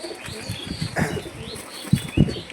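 A restless fancy pigeon beats its wings while held in someone's hand, giving short, close flapping bursts with a couple of sharper flurries near the end, and no talking.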